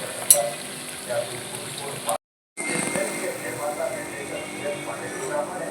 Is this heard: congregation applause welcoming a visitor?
no